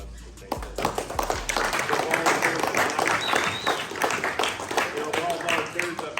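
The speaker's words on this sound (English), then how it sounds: "I want everybody to give them a round of applause and thank them" Applause for the kids and coaching staff at a Federal Way Hawks youth sports banquet, a steady crowd clapping through the whole stretch with people talking over it.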